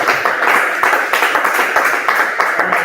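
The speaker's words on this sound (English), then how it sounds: "I deserve a hand clap." Audience hands clapping for a moderator at a Makerere University class representatives' debate, a steady, fairly loud patter of many claps with no voices over it.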